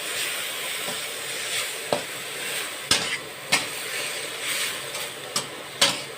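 Soft sizzling of dill stir-frying in a pan with a splash of water, irregular scraping and clacking as a utensil stirs, a few sharper knocks standing out over the steady frying hiss.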